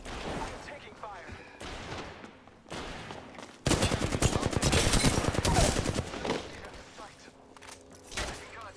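Video game firefight gunfire: scattered shots and short bursts build into a sustained, loud volley of rapid automatic fire near the middle, then taper back into sporadic shots, with occasional radio-style talk underneath.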